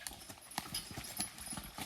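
Draft horses' hooves thud and clop irregularly at close range in mud, several heavy steps shuffling backward in a soft, uneven rhythm.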